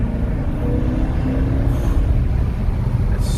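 A car engine idles steadily after an AMSOIL synthetic oil change in hot weather, a low smooth rumble close by and continuous, with no talk over it.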